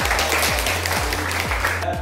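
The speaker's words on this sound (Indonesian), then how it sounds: "tepuk tangan untuk Mas Junior" High school students applaud a classmate in a history lesson, with a full, steady wash of clapping throughout, alongside a faint repeating low tonal sweep.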